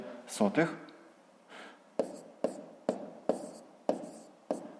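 Pen on paper writing numbers during a fifth-grade maths exercise, heard as six sharp tapping strokes at a steady rhythm after a brief burst of voice at the start.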